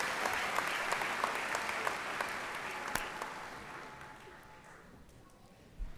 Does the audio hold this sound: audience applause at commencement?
yes